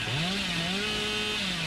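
The Hillbilly's chainsaw in the Dead by Daylight video game revs up into a steady, loud, buzzing drone whose pitch rises and then holds. It sounds close and continuous, with no talking.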